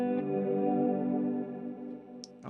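A guitar played through a Mvave Mini Universe sci-fi effect pedal into a Vox Night Train amp gives a sustained, shimmering, chorus-like tone that swells and then fades, cut off by a short clatter at the end.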